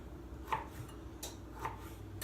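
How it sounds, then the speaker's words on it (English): Knife slicing carrots on a cutting board into thick diagonal half-inch pieces: a few faint, separate chopping taps against a quiet room background. "I could probably cut them all at the same time."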